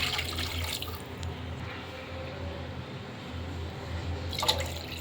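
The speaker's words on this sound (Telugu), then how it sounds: "అదే కప్పుతో నేను 3 కప్పుల వాటర్ అయితే తీసేసుకుంటున్నాను" Water poured from a cup into a pan while making semolina sweet (rava burfi), a steady soft splashing and trickling stream running for several seconds, fairly quiet and close with no voices.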